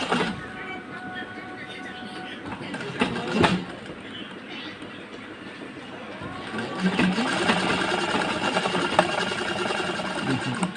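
A sewing machine stitches a blouse with a steady fast mechanical clatter that runs throughout at moderate loudness, rising slightly toward the end.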